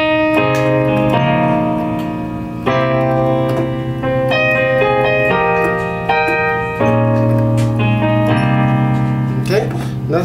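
Piano plays the slow intro of a song, sustained chords stacked over a low bass note and changing every couple of seconds, close and steady with no voice over it.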